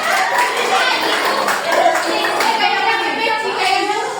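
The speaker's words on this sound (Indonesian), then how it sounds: "Tepuk tangan untuk teman adik." A class of schoolchildren claps for a classmate during a micro-teaching lesson, brisk continuous hand claps close by with children's voices mixed in.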